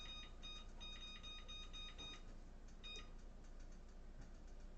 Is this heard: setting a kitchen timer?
yes